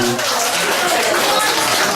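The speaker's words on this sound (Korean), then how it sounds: "우리 가사님하고 저한테 박수 한번 주세요." Members at a regular club gathering in a grilled-meat restaurant clap together, a dense continuous patter of hands mixed with chatter and voices in a lively room.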